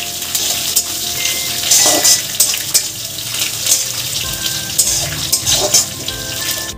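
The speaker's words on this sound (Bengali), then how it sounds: "কারি পাতাটাকে দিয়ে ভালো করে এবার ভাজা ভাজা করে নেব।" Chopped curry leaves, with chopped green chillies, frying in hot oil for a semolina idli stuffing, giving a steady close sizzle and crackle with some clatter and stirring throughout, no talking.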